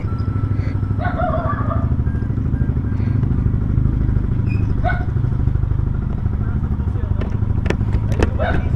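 A motorcycle engine runs steadily on a ride through Real Quezon, a constant low rumble beneath scattered talk and a few brief clatters.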